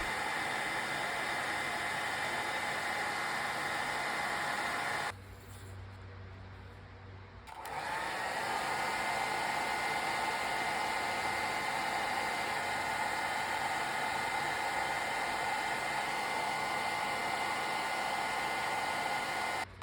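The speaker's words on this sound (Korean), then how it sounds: "열풍기가 없다면 드라이기를 사용해도 괜찮습니다." A hair dryer blowing to shrink heat-shrink tubing over wiring, a loud steady airy whoosh that drops to a quieter setting for a few seconds before resuming at full strength.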